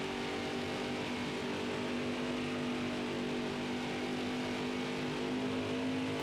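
Race car engines in the NASCAR Heat 5 racing game drone steadily and loudly at high revs for the whole stretch, a sustained buzzing roar with no voices over it.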